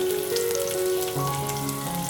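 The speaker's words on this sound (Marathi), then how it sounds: "तेल छान तापल्यावर आपल्याला घालून घ्यायचा आहे कांदा." Chopped onion frying in hot oil gives a soft, steady sizzle heard at low level, with tonal hum and background tones running through it and no speech.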